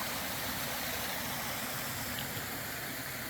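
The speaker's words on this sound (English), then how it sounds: "I think we made it to the creek." Creek in Mount Rainier National Park flowing as a steady, soft wash of water noise, continuous and fairly distant with no voices.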